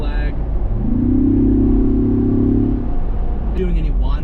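A 2024 Ford Bronco Wildtrak Sasquatch with a 2.7 liter EcoBoost engine accelerates onto a highway, a steady droning engine note rising slightly in pitch over heavy road rumble inside the cabin, loud and continuous throughout.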